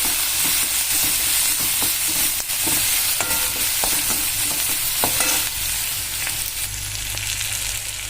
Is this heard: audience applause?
no